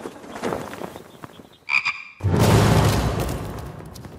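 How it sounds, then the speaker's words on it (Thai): Frogs croak in a short burst of repeated calls near the middle, set against dark, tense background music that swells loudly afterward. "แค่เสียงกบร้องอ่ะ"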